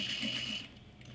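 A sewing machine runs steadily while stitching a bag seam at a half-inch seam allowance. It gives a close, even mechanical whir with a thin high whine for just over a second.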